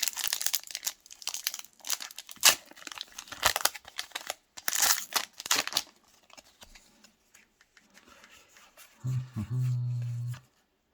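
Pokémon card booster packs being torn open, loud close crinkling and tearing of foil wrappers in bursts over several seconds, followed by quieter card handling and a short low hum near the end.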